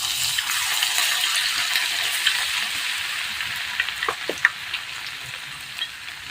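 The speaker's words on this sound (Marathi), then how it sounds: "तर आता मी केस तळून घेते थोडा थोडा टाकायचा आहे" Steady oil frying sizzle while frying chivda ingredients, with a few soft clicks and splashes near the end as more is added.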